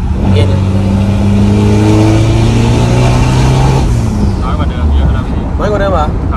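Car engine with a remapped tune revving hard under acceleration in third gear, after an earlier remap caused heavy smoke and jerky power. The loud, close drone climbs in pitch and then eases off, with voices briefly near the end.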